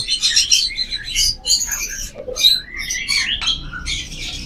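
Many small fancy birds in a bird shop chirp and tweet close by, a dense run of overlapping high calls with short pauses.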